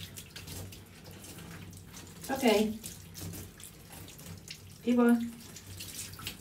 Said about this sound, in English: Rinse him off. Nice and easy.